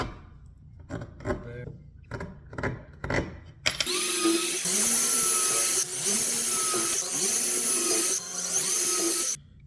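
A few sharp knocks, then a power drill whirs steadily into wood for several seconds at close range, its pitch shifting slightly as it bites.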